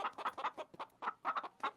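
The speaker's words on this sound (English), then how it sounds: "I'll just have some chicken sounds." Rooster and chicken sound effects in a tabletop fantasy game session: a run of rapid, fairly loud clucks and squawks in uneven bursts, with no talking.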